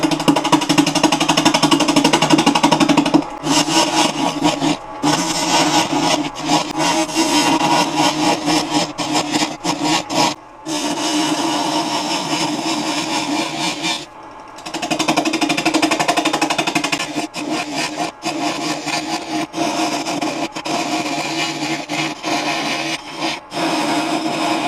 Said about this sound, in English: I'm going to use 3/4 inch bowl gouge.